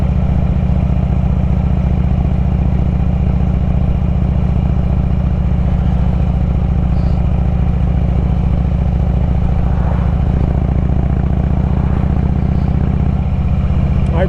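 Harley-Davidson V-twin motorcycle engine on a ride home, a steady loud low rumble with a continuous throbbing drone that holds throughout, close up and alone with no speech.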